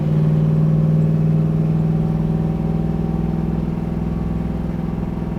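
A 1967 Chevrolet Camaro engine idles loud and close with a deep, steady rumble and a low throb, easing slightly in level over several seconds with no talk.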